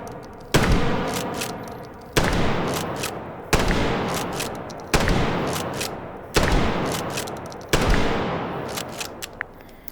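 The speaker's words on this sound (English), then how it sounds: "This is a pump action shotgun after all." Pump action shotgun in the video game Hot Dogs, Horseshoes and Hand Grenades, six loud blasts at roughly regular intervals, each followed by a decaying echo and the clack of the pump being worked.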